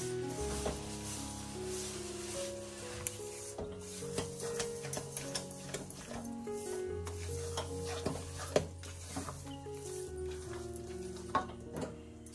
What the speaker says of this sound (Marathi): चला आता आपण पायनॅपल क्रश करून घेतले तो टाकून घेऊ। मस्त मिक्स करून घ्यायचं आता।